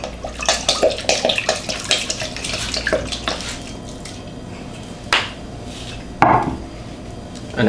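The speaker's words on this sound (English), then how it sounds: "In goes my fish sauce." Fish sauce pours into a mortar holding bruised ingredients and pork ham for Lao thum khao poon, a short liquid splash among light knocks and taps close by, with no talking.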